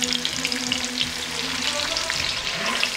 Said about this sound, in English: And I'm going to fry the